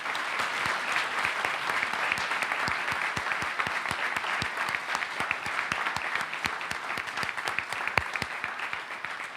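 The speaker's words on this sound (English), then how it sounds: "Let's give these students a round of applause." An audience at a school board meeting gives a round of applause to high school students, a close, steady patter of many hands clapping at an even volume with some distinct sharper claps throughout.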